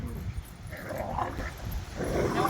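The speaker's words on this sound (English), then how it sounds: "Where'd you get those dogs?" Dogs bark and yip outdoors in a noisy backyard pool area, the sounds mixed into a steady background wash and growing slightly louder toward the end.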